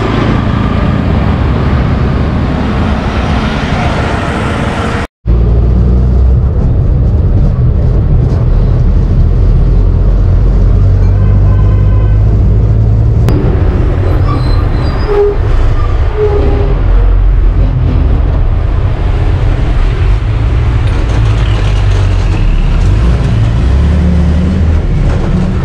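Bus ride on the way to Seeduwa, Sri Lanka: a steady, loud engine drone and road rumble from inside the moving bus, with rattling and traffic noise throughout and a brief cut near the start.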